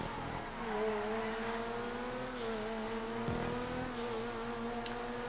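A Turismo race car in GTA 5 holds a steady, high engine drone as it laps a track, with a brief gear-change dip, faint tire noise and occasional light impacts.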